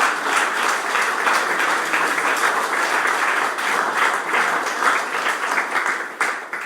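Museum exhibition audience claps for the artists in a full, sustained round of applause, fairly loud and close, holding steady for several seconds with no voices over it.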